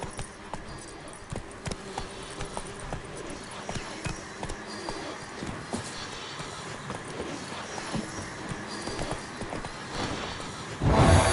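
Hooves clip-clop in a quick, steady rhythm as a horse gallops in The Witcher 3 video game, close and moderately loud, with a louder burst at the very end.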